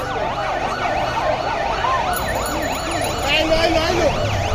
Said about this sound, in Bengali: এই অ্যাম্বুলেন্স অ্যাম্বুলেন্স বসেন।